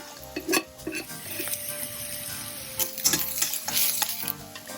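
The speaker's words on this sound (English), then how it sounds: "Begin by sauteing the onions, the garlic and ginger." Onions, garlic and ginger sauté in a pan for a fiery sambal, with a steady sizzle broken by the clink and scrape of a spoon stirring, close and moderately loud, no talking.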